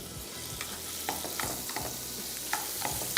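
Chopped garlic frying in melted butter in a pan, roughly a tablespoon, with a steady close sizzle broken by light scraping and stirring clicks, and no talking.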